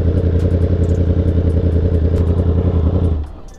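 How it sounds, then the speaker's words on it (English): Ducati Panigale V4 SP2 motorcycle engine running close and loud with a rapid, pulsing, throbbing beat, then cutting off abruptly near the end into a fading quiet. "You cannot tell me this bike does not sound nuts."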